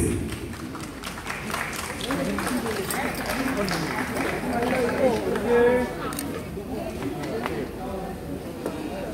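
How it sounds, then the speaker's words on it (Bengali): Sustained applause rises from the audience at the OTT Samman season 2 awards night, a thick, continuous wash of clapping with chatter and voices running through it and swelling slightly near the middle. "একবার জোরে হাততালি হয়ে যাবে প্লিজ"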